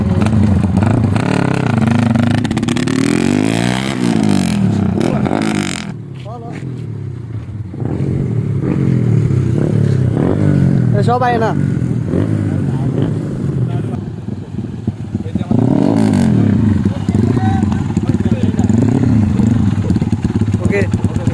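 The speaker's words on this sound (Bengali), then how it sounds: "আজকে আমি এখন মালাইদের মোটরসাইকেল চালাবো, খুবই সুন্দর মোটরসাইকেলটা। তো এটার সাউন্ডটা খুব সুন্দর" A motorcycle ridden in Malaysia runs continuously with engine drone and revving rising and falling, loud and close, while someone talks over it and wind noise buffets throughout.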